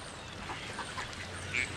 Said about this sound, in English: we're feeding the ducks